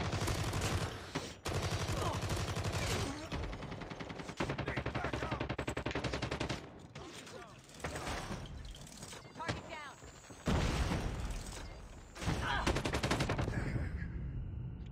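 Bursts of automatic gunfire in Call of Duty Mobile, loud and dense, broken by short pauses and followed by more volleys, with game voices occasionally mixed in.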